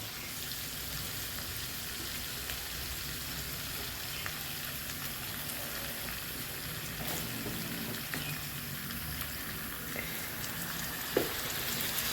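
Water added to a hot frying pan of crispy pork for Thai basil stir-fry produces a steady, loud hiss and crackle of sizzling that continues throughout, with faint clinks of stirring.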